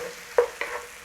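A beef, ginger, green onion and red chilli stir-fry being turned over in a pan with the flame off: two quick scraping strokes of a utensil over a faint sizzle, close and brief, with no one talking.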